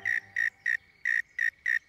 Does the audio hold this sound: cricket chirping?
yes